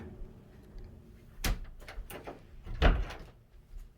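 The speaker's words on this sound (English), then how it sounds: "I had to close that door." Indoor door being pushed shut, a sharp knock near the middle followed by a heavier thud and rattle, close by and fairly quiet, with faint room noise around it.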